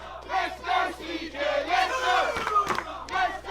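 A pro wrestling crowd chants and cheers in rhythmic waves for CJ Carter during a match, loud massed voices with a few sharp thuds partway through.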